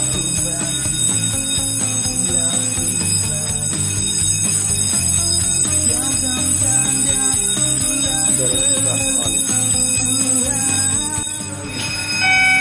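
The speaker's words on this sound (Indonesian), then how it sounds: "Sistem alarm kebakaran telah diaktifkan." A continuous fire alarm drones loudly through the whole stretch, dense and ringing, with faint background noise beneath it.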